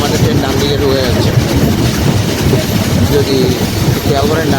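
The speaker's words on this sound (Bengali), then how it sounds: "আমাদের ট্রেন ডান দিকে ঢুকে যাচ্ছে" Chitra Express intercity passenger train from Khulna to Dhaka, running onto the right-hand track toward an old rail bridge near Ishwardi: a loud continuous rumble with rhythmic wheel clatter and faint squeals, with people talking over it.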